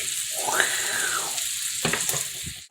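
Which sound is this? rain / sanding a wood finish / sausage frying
sausage frying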